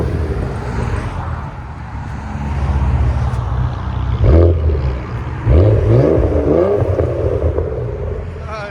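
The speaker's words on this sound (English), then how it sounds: "give it gas" A 500hp Saleen Ford Explorer with straight pipes idles with a rough rumble, then is revved twice, each blip swelling into a loud, rising exhaust roar before dropping back.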